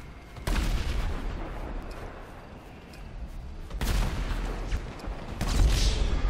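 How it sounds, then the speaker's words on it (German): Tank cannon blasts in GTA V, three heavy booming shots spaced a couple of seconds apart over constant rumbling game noise, with no talking. "Ein Schuss, der scheiß Panzer hat mich"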